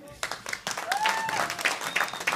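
An audience claps through the close of a small living-room concert, the applause building and holding, mixed with cheers and voices.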